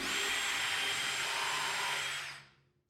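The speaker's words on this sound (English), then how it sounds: "I continued drilling pilot holes." A high-pitched power drill whirs continuously at close range for a couple of seconds drilling pilot holes into wood, then spins down and stops.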